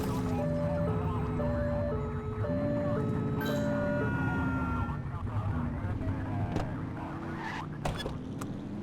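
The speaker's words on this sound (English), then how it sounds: "Get behind them and blip the siren and make them pull over." A police car siren in the video game The Precinct gives several short, repeated two-tone blips over a running car engine, then fades into traffic and road noise.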